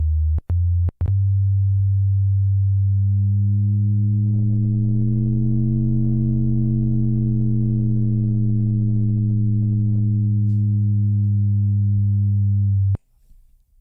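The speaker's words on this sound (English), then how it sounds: "That's amplitude modulation." A synthesizer holds a steady low tone that swells and thickens mid-way as amplitude modulation adds harmonics, then cuts off abruptly, preceded by a few sharp clicks.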